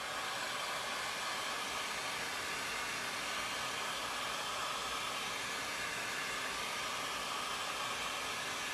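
A hair dryer blows steadily at close range to dry a painted craft surface before a transfer is applied, a continuous broadband whoosh with no talking.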